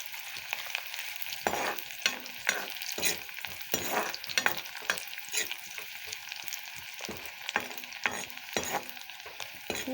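A spatula scrapes and stirs food in a sizzling frying pan, repeated clattering strokes over a steady hiss of frying, close and moderately loud, with no talking.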